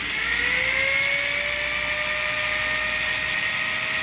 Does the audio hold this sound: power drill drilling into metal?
yes